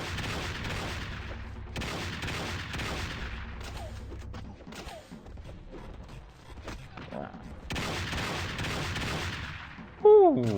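Bursts of gunfire from the Madness Project Nexus video game, modded, dense and continuous through most of the stretch with a brief lull in the middle, closing on a sharp louder burst; speech-like sounds blend into the mix.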